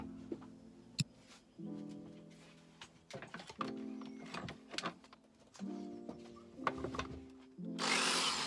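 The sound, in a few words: power drill drilling hole in wood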